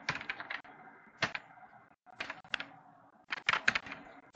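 Computer keyboard keys being typed while writing code for a realtime database app, in quick clustered bursts of close clicks separated by short pauses, with no voice.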